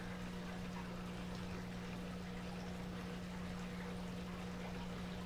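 Water pours and trickles into an above-tank sump on a large aquarium of over 300 gallons, a steady faint flow over a constant low pump hum, with no talking.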